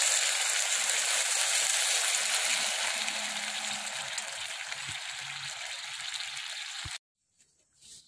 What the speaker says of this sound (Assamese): এইখিনি ভাজি হৈছে, সেইটো কাৰণে মই ইয়াত পানী দিছোঁ।